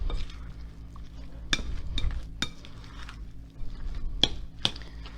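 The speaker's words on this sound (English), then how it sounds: "So I'm going to mix this up." A spoon stirs a crab meat mixture in a bowl, giving a few sharp clinks and soft wet squishes spaced out over quiet background hum.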